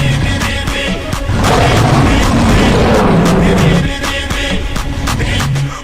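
Fireworks going off at a celebration, a dense string of loud, close booms and sharp cracks in quick succession with a heavier, sustained roar of blasts through the middle.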